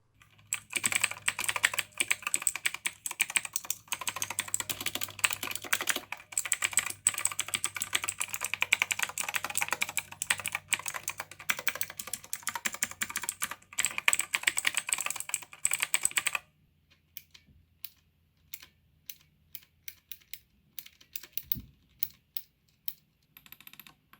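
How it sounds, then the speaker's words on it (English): Rapid, dense clicking of rubber tactile keypad switches on a gaming keypad pressed one after another for a long stretch, then sparser, quieter taps after a brief pause. "As for the M1 to M4 keys, they are rubber tactile switches, and here's a sound test."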